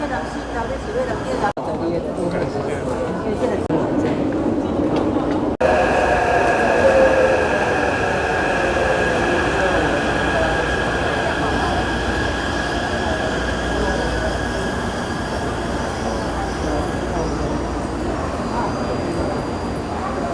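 A metro train at a station platform, a loud continuous rumble with wheel squeal and rail noise running throughout, with voices audible in the background.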